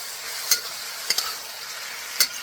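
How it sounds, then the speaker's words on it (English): Chicken and canned water chestnuts stir-fried in a wok in Cantonese style: a steady sizzle broken by a few sharp scrapes and clanks of the spatula, close and fairly loud, with no speech. "So you want to just keep on stir frying."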